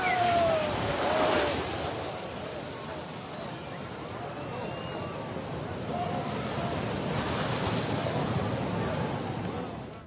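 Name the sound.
swollen flooding river rushing during Assam monsoon rains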